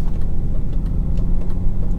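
A 2001 BMW 730d diesel engine heard while driving, a steady low rumbling drone with road noise, continuous and fairly loud throughout with no talking.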